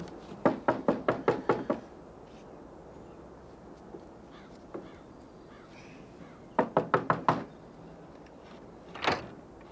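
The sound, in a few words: knocking on a door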